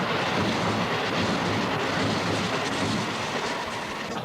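A train in Japan rolls past with a steady, loud rumbling roar of wheels on rail, unbroken throughout with no voices.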